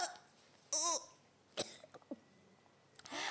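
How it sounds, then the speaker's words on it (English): A man coughs and splutters, likely a voice acting out illness: one harsh, strained burst, then a few shorter rough coughs and throat noises, close and fairly loud against a quiet background. "coughing and spluttering."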